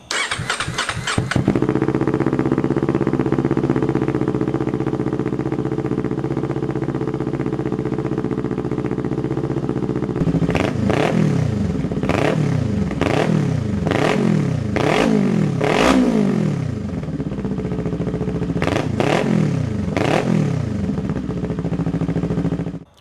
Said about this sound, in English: let's go ahead and crank the bike up so you can hear what it sounds like